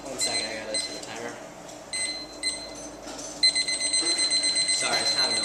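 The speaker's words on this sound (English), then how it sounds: "1 second, I gotta set the timer." A timer for a debate round is set with a string of short electronic beeps, some brief and others sustained, ending in a rapid run of repeated beeps, while people talk in the room.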